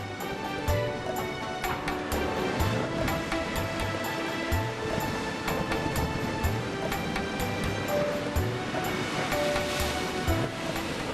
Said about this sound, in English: With emerald waters, a thunderous sea and crashing waves